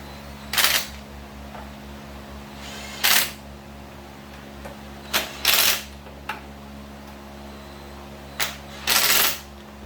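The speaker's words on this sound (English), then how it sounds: "I'm gonna ease these up in here with my impact." An impact wrench snugging the front wheel bolts on a Yamaha Vmax 1200 motorcycle, firing in short, sharp bursts separated by pauses, some bursts doubled in quick succession.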